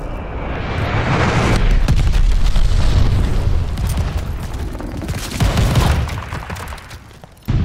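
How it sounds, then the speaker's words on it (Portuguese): A long, loud rumbling explosion from an enemy glide bomb in Call of Duty: Vanguard rolls on for several seconds with crackling debris, then fades before a sudden sharp burst at the end. "Bomba planadora inimiga."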